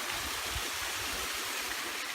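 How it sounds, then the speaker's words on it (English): Water running off rain-soaked hills into a reservoir after unseasonably wet weather, a steady broadband rush and gurgle like a stream or small waterfall, continuous and fairly loud throughout with no voices. "there's always water running off the hills to go into the reservoir"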